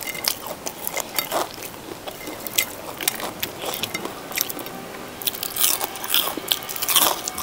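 Repeated crisp crunching bites into deep-fried battered black mushrooms, sharp crackly snaps close up with chewing between them and no talking.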